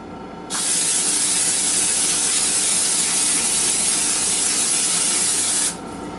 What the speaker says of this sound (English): I'm going to go ahead and spray down the baking sheet